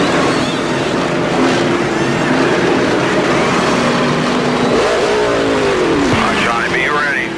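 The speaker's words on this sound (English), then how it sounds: "they're turning as many RPMs as the car is as it starts to leave the pits" A NASCAR race car at the 2000 Pennsylvania 500 revs hard as it leaves the pits, a loud rising engine whine that sweeps up and falls away under constant crowd and engine roar, with a voice talking over it.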